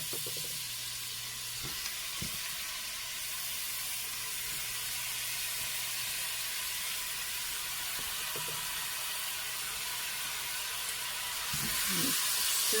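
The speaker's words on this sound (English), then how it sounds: "Okay, I'm going to throw my tomatoes in." Tomatoes sizzle and hiss steadily in a hot pan while vegetable spaghetti sauce cooks, a continuous broad frying noise with a few light knocks and clatters, growing a little louder near the end.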